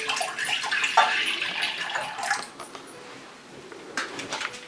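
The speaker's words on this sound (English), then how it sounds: "I'm gonna add 1 cup of milk." Milk being poured into a saucepan over medium heat for masala chai, a short splashing liquid pour that is close and moderately loud, tapering off midway.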